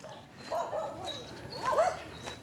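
Dogs give short barks and whimpering yips, a few brief outbursts at moderate distance with some faint voice in the background.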